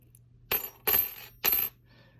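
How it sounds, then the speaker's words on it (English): Three bright metallic clinks of tiny 1/10 ounce gold eagle coins striking one another, crisp and close, spaced about half a second apart over a faint low hum. "Check out these 1/10 ounce coins."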